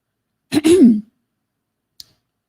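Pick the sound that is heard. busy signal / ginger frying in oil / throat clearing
throat clearing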